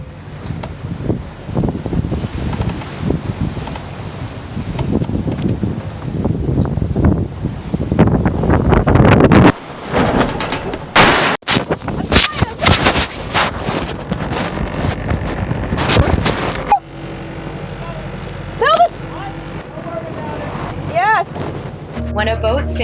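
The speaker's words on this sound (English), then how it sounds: "In an accidental jibe like the one you've just heard, the impact of a sudden sail change puts the rig under immense force." A sailboat on a trans-Atlantic passage in tough, strong wind, with heavy wind buffeting the microphone, rushing water and a sudden loud banging crash of an accidental jibe midway, followed by creaking and a voice speaking.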